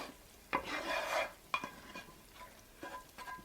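Hot tempering (tadka) is added to mustard greens saag on a low flame and stirred in, giving soft scraping stir sounds and a brief sizzle, with faint clinks of the utensil against the pot.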